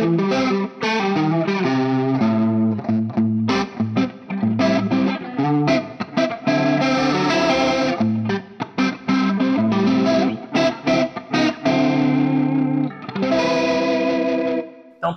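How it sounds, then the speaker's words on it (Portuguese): An electric guitar runs through a Collateral FX Demoiselle pedal set for a fast Leslie-style rotary effect with distortion, playing loud, continuous chords and phrases with a swirling, warbling tone and no talk. "aumentar a velocidade e tirar um som de Leslie super interessante com distorção"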